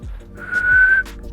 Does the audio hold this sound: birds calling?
no